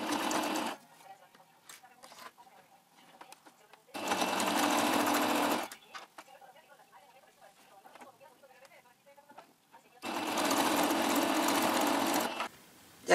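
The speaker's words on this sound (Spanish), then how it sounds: "Lo voy a llevar a la máquina y voy a coser aquí todo alrededor, como con un centímetro de costura." A sewing machine stitches around a turtleneck poncho collar, running in three loud, steady bursts of a few seconds each with quieter pauses between them.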